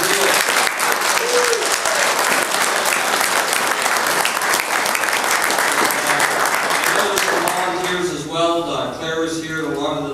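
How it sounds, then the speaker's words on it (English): A meeting audience gives the AGM committee a warm round of applause, thick and continuous for most of the stretch, fading toward the end as voices start to talk over it. "So let's give them a real round of applause."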